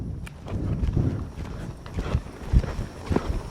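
A young colt lopes nearby, its hoofbeats thudding in a steady three-beat rhythm on soft ground, moderately loud and close, with no talk over them.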